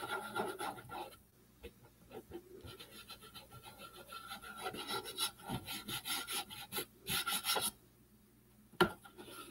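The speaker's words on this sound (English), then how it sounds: "Using my fingers because I like to push it down into the grooves with the wax." Fingers rubbing wax into the grooves of a craft piece, producing soft repeated scratchy rubbing strokes in uneven bursts that pause briefly, close and fairly quiet.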